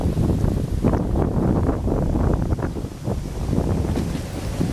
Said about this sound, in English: You probably can't hear my camera because it's really windy.